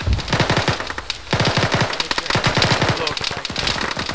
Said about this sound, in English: you're allowed automatic fire